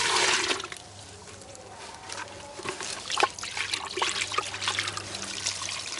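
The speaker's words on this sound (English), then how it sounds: "bit of stagnant water from my pond." Stagnant pond water is poured out, splashing and trickling in an uneven stream with a louder gush at the start, close and without talk.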